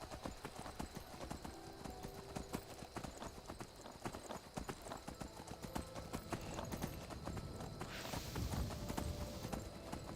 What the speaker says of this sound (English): I'm on Frost because Frost is like a special horse